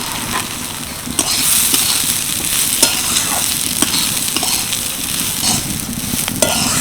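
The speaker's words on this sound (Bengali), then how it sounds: "ধুয়ে জল ঝাড়িয়ে রাখা মুগ ডাল দিয়ে দিচ্ছি" Washed moong dal frying and being stirred in a little mustard oil in a kadai, a steady close sizzle with repeated scraping strokes throughout.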